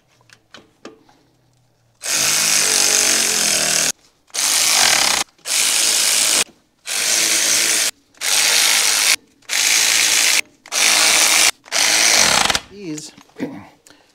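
Power tool spinning brake nuts on a 2005 Ford F-350 front brake job, eight loud buzzing bursts of about a second each separated by short pauses, close up, with faint speech before and after.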